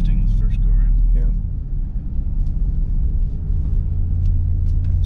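A 2022 Ram 1500 TRX pickup engine rumbles low and steady while driving at low speed, heard from inside the cab, with people talking over it.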